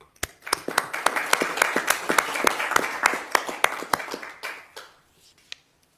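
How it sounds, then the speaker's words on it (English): Applause at a council meeting for local police officers: a modest round of distinct hand claps, fairly close and crisp, building briefly then thinning out to a few final scattered claps. "can we please give them another round of applause?"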